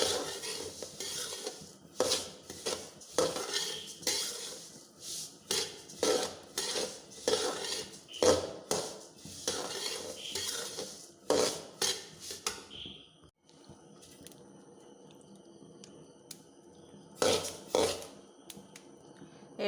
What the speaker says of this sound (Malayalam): എള്ള് പൊട്ടാൻ തുടങ്ങി.